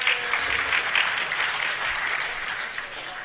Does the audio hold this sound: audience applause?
yes